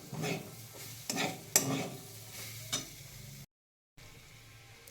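Grated carrot frying in homemade ghee: a spatula drags through it in repeated rhythmic scraping strokes with a soft sizzle beneath, close by, broken by a brief full silence near the end, no talking.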